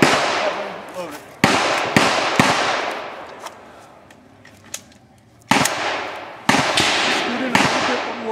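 Pistol shots at IDPA shooting practice, fired from behind a barrel: several sharp, loud cracks close by in two bursts, with a quieter gap between them.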